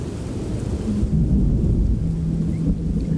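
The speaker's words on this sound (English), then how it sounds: "Of course there would be a thunderstorm." A thunderstorm rumbles in the video game The Train, with loud, deep rolling thunder over a steady bed of rain and a faint tonal hum, with no talking.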